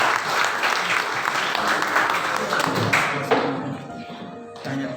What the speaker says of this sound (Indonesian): Berikan tepuk tangan yang meriah untuk kedua paslon